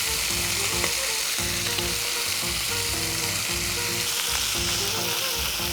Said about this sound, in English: Should hear a sear. Exactly like that.